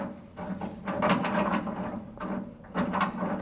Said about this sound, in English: as I'm tightening it up, I'm going to make sure that I really get that spacer kind of centered on that bolt